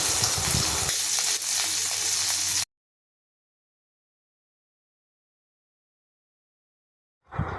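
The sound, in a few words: spice paste with cumin, green chili and ginger frying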